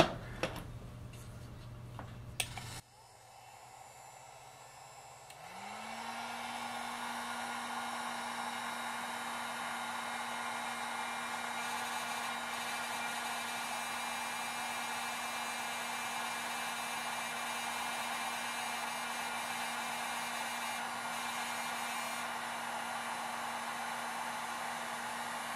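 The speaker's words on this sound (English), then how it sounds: "So I'm going to turn the heat gun on." A heat gun blows steadily and loudly as a broad, even hiss with a low motor hum, running continuously after a click and short startup while troubleshooting a glass top stove burner.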